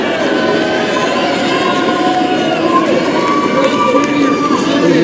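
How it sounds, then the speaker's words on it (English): A large political rally crowd cheering and shouting, a dense, loud roar that holds steady from start to finish with no break. "They don't even know what they're cheering for."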